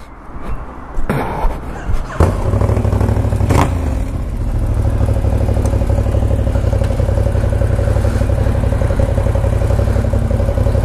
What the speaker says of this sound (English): Yeah, Wag's bike is loud.